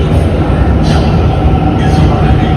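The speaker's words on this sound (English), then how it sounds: "So here comes the train" Metro train pulling into a station in China, a loud continuous rumble and roar of wheels and motors close by, with faint high squeals, and a person speaking over it.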